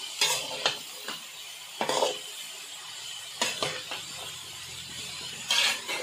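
Shredded cabbage being sautéed in a pan for a Tamil egg cabbage poriyal: a spatula scrapes and stirs in quiet, separate strokes over a faint sizzle.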